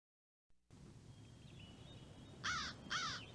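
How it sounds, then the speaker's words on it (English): Two loud, harsh crow caws close by, spaced about half a second apart, following a quiet stretch of low ambient hiss. "Crow."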